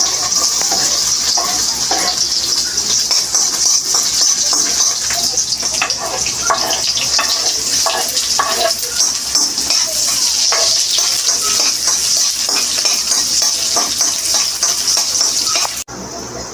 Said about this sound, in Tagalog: Ilalagay ko na po itong bawang at sibuyas.